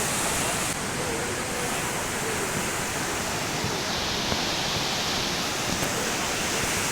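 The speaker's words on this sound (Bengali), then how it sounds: "সমুদ্রের ঢেউটা দেখুন অসাধারণ লাগে" Sea waves break on the shore at Digha beach, a constant, loud, roaring wash of surf filling the scene.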